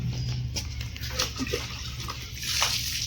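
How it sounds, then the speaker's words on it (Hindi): Water splashing and sloshing as dirty feet are washed at a household tap, a steady close wash with intermittent splashes throughout. "अब ये अपने गंदे पैरों को इधर धो रही हैं इसमें से पानी से"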